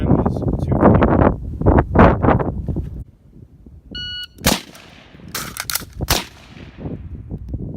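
Sharp rifle reports from a PWS MK1 short-barreled rifle ring out outdoors, a few loud cracks spaced a second or two apart after a stretch of voices talking, with a brief electronic beep from a shot timer between them.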